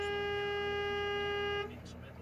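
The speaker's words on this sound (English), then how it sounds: "alerted the truck by honking their horn and flashing their lights" A truck's horn sounds on a highway as one long, steady, tonal blast that cuts off abruptly near the end, fairly faint and distant.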